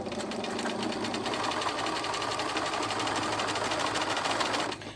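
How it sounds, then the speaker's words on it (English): Sewing machine running steadily for several seconds while curved fabric pieces are guided through, a continuous close, loud mechanical whir that stops abruptly near the end. "we're just going to guide the bottom one around as we sew."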